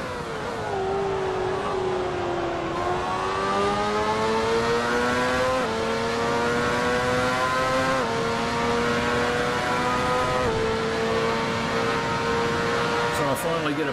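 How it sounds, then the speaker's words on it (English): Several race cars in the Assetto Corsa driving game roar close by with rising and falling engine pitch, one pulling alongside and overtaking on the left. Steady, loud, continuous engine noise with gear shifts. "I can actually hear him on the left hand side overtaking me"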